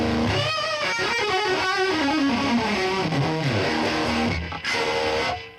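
Distorted electric guitar strummed in a run of chords, loud and gritty with a buzzing edge, ending on a sustained chord that cuts off.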